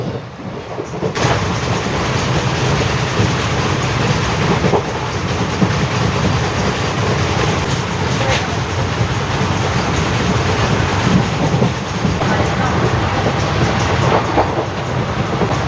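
A train to Rameswaram rolls along the tracks with a steady rumble and rhythmic clatter, heard close up from inside the carriage.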